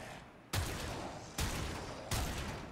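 Vectis Prime rifle in Warframe fires three loud, evenly spaced single shots, each a sharp broadband crack with a lingering tail, no voices.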